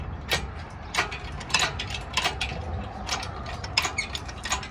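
Tie-down straps ratcheted tight while securing LS engines in the bed of a 2000 Chevrolet Silverado 2500 HD, a series of sharp clicking ratchet strokes repeating at irregular intervals, fairly close and alone.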